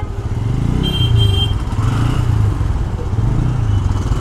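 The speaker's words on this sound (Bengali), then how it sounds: "রাস্তাঘাটের অবস্থা দেখেন, ভয়াবহ জ্যাম" A road traffic jam with motorcycles and cars idling: a dense, steady low engine rumble with clatter, close and continuous, with no single vehicle standing out.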